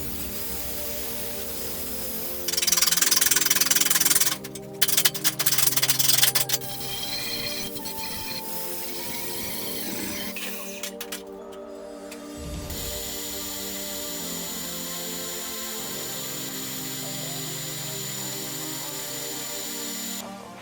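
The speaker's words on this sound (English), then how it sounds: "So let's cut those tack welds and regrind that hoop." A power tool cuts through tack welds and regrinds a steel roll cage front hoop in harsh, close bursts of high-pitched grinding, separated by quieter pauses and a steady motor whine.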